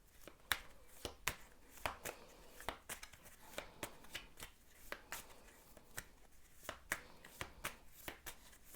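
Tarot cards being shuffled by hand: a quick, even run of crisp riffling snaps and slaps, close and fairly quiet, repeating at a steady rhythm with no talk.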